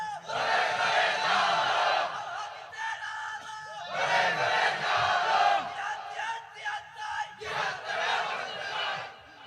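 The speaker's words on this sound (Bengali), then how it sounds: "আওয়াজ করে একটা তাকবীর দেন।" A large crowd at an outdoor Islamic sermon gathering shouting the takbir together in three loud, unison bursts, each swelling and holding for about two seconds, with brief quieter gaps between them.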